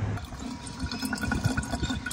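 Water running into a container at a roadside stop on an Australian road trip, a steady close trickling and splashing stream heard alone, with no talking.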